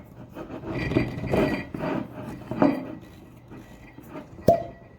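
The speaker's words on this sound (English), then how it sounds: "Oh, got a nice little cork pop there." A cork is worked out of a never-opened bottle of Kentucky straight bourbon, with squeaky rubbing and grinding strokes up close, then one sharp pop near the end.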